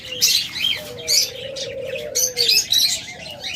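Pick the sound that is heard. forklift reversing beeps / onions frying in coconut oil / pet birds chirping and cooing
pet birds chirping and cooing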